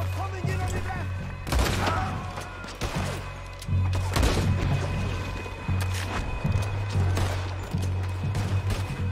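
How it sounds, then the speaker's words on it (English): Sniper rifle shots ring out in Red Dead Redemption 2, several sharp cracks spaced a second or two apart over a steady low in-game drone, loud and close, with a voice speaking faintly under the action. "I gotta use the sniper here"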